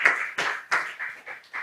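A church congregation claps in an even, steady rhythm, about six crisp hand claps spaced roughly a third of a second apart, close and moderately loud.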